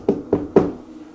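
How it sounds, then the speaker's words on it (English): Three hard knocks on a surface in a haunted house during a paranormal investigation, evenly spaced and close by, with a quiet pause afterward and no talking. "Can you knock like this for us?"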